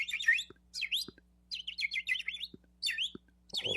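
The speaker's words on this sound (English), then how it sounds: "So Suleiman, he speaks to the birds" Small birds chirping in short, high, bright bursts, several quick twittering phrases separated by brief pauses, fairly close and clear against a quiet background with a faint low hum.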